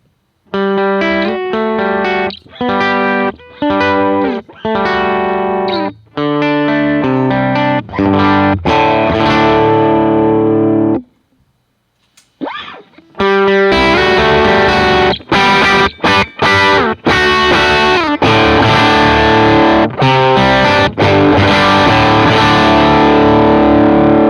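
Electric guitar played through an amp modeler, first a clean tone with chorus-like shimmer in short phrases, then after a brief pause a loud, dense overdriven tone from a drive pedal, continuous chords and riffs with no talk.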